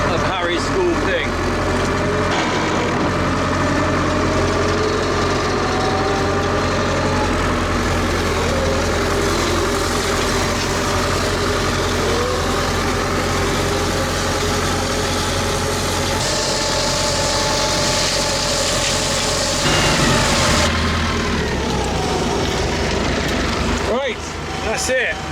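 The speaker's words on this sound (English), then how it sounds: "I finished mowing this field. In my vintage tractor." A vintage tractor engine drones steadily while mowing a hay field, a continuous close low rumble with a mechanical hum that holds throughout, shifting slightly near the end.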